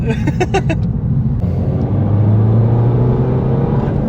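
The stage 3 diesel engine of a Ford Focus Mk2 revs loudly up close, a deep, sustained rising drone with rough clatter. A few sharp clicks come first.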